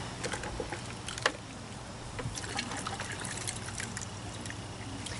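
Water trickles and patters over a toy Hot Wheels Porsche 911 being washed, a faint, close running stream with small splashes and one sharper splash early on.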